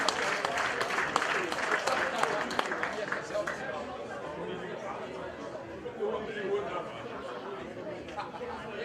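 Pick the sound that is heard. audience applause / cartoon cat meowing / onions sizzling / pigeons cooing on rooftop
audience applause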